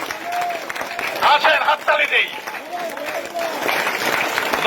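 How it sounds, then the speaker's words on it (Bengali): A crowd at a local BNP party meeting in Joypurhat claps and cheers, loud scattered applause mixed with voices and crowd babble nearby. "আসেন সবাই হাততালি দিই"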